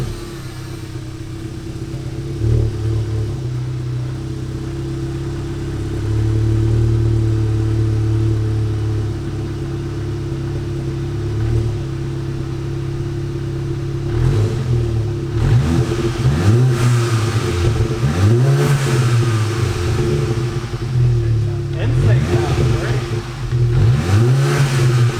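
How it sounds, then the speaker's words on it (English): A Volkswagen MK7 GTI with a titanium exhaust starting for the first time, settling into a steady idle and then revving repeatedly in rising and falling sweeps, loud and close, with no talk over it. "So you guys are gonna hear first start with us at the same time."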